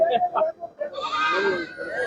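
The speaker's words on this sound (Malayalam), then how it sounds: "ഇന്ന് ഒരുപാട് ആടുകൾ എത്തിയിട്ടുണ്ട്" A goat bleating at a weekly livestock market, a few short bleats followed by a longer wavering cry close by, with voices chattering around it.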